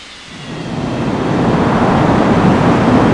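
A jet airliner, a Boeing 737 or Airbus A320 in an air traffic control game, starts its takeoff roll with a broad, steadily building roar that swells over a few seconds and holds loud and close.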